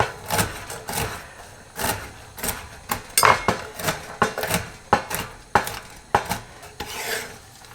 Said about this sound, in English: Chop the pecans while I have a clean cutting board.